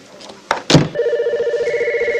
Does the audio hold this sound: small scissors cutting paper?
no